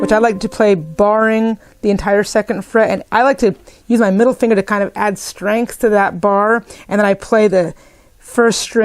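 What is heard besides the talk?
No everyday noise stands out behind the speech.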